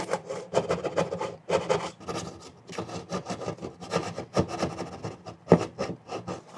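A hand rasp files the underside of a wooden medieval barn model set upside down, giving repeated rough scraping strokes in bursts, close and fairly loud, with short pauses between passes.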